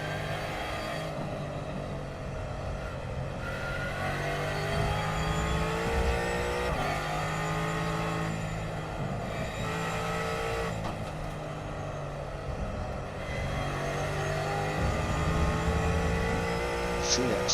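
A race car runs a lap of the Hungaroring with a sustained engine drone that rises and falls through gear changes and corners. A voice talks over the steady mechanical roar.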